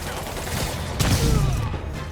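Gunfire in Marvel's Spider-Man Remastered, a dense, continuous rattle of shots with a heavier crack near the middle, set among loud game action.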